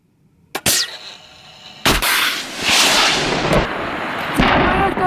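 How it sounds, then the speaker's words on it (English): Guided anti-tank missile fired on a training range: a sharp launch crack, then a second heavy blast followed by a long rushing roar with further bangs as the missile flies off, no voices. "That was the guided anti-tank missile training."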